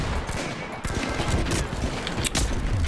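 Rapid gunfire in the video game THE FINALS, dense bursts of shots and sharp cracks filling the whole stretch loudly with a few heavier impacts.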